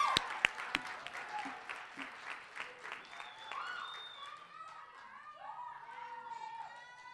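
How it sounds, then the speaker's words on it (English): Audience applause at a school winter concert after a duet performance, with a few sharp claps up front swelling into sustained clapping, while voices talk and call out over it. "Give them a big round of applause."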